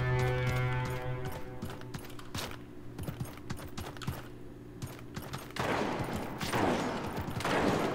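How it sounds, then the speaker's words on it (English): Rapid bursts of gunfire fill a Realm Royale battle royale match, with dense repeated shots crackling over a steady game soundtrack and intensifying toward the end. "Oh, they're shooting."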